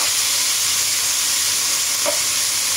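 Cooked igado, a pork and liver dish, goes into a pan of frying broccoli, giving a steady, loud sizzle with light stirring scrapes throughout and one brief clink near the end.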